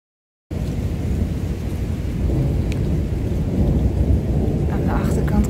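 A steady roar of heavy rain and gusting wind, dense and unbroken, growing slightly louder over several seconds.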